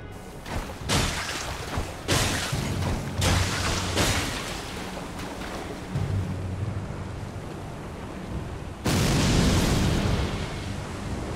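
Chain-reaction explosions in the video game Elden Ring go off as a series of booming blasts about a second apart, ending in a larger, louder rumbling burst.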